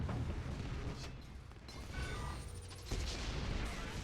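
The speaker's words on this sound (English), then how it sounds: "Oh, big rocket right in midair." A rocket blast in Unreal Tournament, a deep, noisy boom with a crack around three seconds, set amid a continuous rumble of gunfire and explosions in a fast capture-the-flag match, with no talking.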